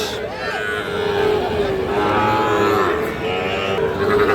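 Sahiwal bulls and calves lowing at a busy rural cattle market in Dinajpur, several drawn-out moos close by rising over a background murmur of people.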